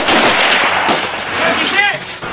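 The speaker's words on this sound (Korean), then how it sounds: "사격 지시!" Gunfire rings out during a military shooting drill, loud sustained blasts with echoing reverberation filling the whole stretch.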